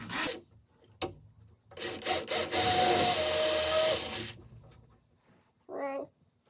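Drilling 1/8 inch screw holes with a power drill for a home barn door installation: a couple of brief bursts, then a sustained whining bore of about two and a half seconds, close and fairly loud, with no talking.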